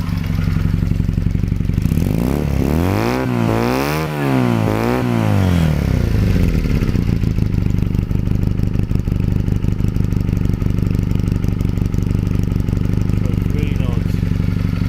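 A 2014 AJS NAC 12 125cc motorcycle with twin exhaust idles steadily and loudly up close, its engine revving briefly and then settling into a constant, faintly ticking run.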